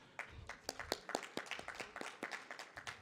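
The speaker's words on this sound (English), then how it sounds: "Please clap for yourself." An audience claps at an International Migrants Day 2023 event, with irregular overlapping hand claps that are fairly faint and distant, lasting steadily throughout with no talk over them.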